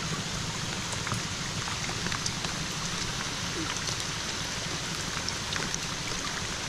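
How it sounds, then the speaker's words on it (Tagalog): Steady rain falls outdoors during a meal near the sea, a dense, even hiss of drops spread across the whole clip at moderate level, with no clear talk over it. "Kasama yung ulan."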